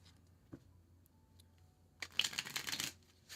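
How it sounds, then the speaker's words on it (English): French suited playing cards are shuffled up close, with a few soft taps followed by a quick, crisp riffling burst of about a second in an otherwise quiet room. "So I'm shuffling these 4 times."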